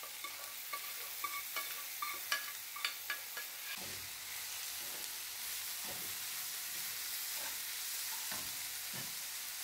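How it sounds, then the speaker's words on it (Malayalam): Cooked squid, boiled earlier with salt and turmeric, is stirred into a pan of softened onions for a Kerala squid roast. A steady sizzle of frying runs throughout, with a series of clattering stirring scrapes early on and softer stirs later. "ഈ സമയത്ത് നമ്മൾ ഉപ്പും മഞ്ഞൾപ്പൊടി ഇട്ട് വേവിച്ച് വെച്ചിരുന്ന കണവയില്ലേ,"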